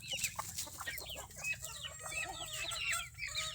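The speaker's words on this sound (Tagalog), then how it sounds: "at meron tayo ditong mga sisiw ayan mga lahi ng kanaway natin" Chickens and small chicks on a farm clucking and peeping in a steady overlapping chorus, close by and moderately loud, with no talking.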